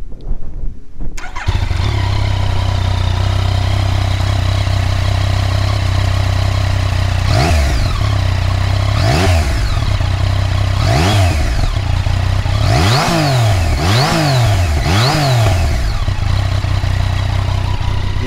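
A Yamaha Tracer 900 GT motorcycle on its stock exhaust idles loudly close by, then gets blipped through about five sharp revs, the last three coming in quick succession.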